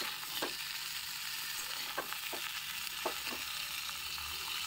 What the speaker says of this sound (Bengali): তো নুন দিয়ে ভালো করে আমি সবজির মধ্যে মিশিয়ে নেব।